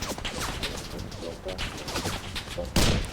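Rapid bursts of turret gunfire in Roblox D-Day, dense and continuous with a loud crashing impact near the end, heard under excited talking.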